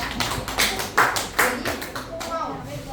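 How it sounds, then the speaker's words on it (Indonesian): A small indoor audience at a teachers' session claps briefly, a few sparse, close hand claps rather than full applause, mixed with voices. "Mari kita beri applause, tepuk tangan yang meriah."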